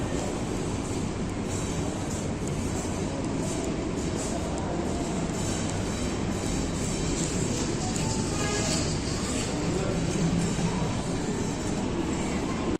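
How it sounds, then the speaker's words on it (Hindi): The 12 Down Hazara Express pulls into a railway station platform in snowy mountain country, a loud, continuous rolling rumble of wheels and carriages with faint squeals, steady and close for the whole stretch. "ट्वेल्व डाउन हज़ारा एक्सप्रेस जो है रेलवे स्टेशन पे प्लेटफार्म पर आ चुकी है।"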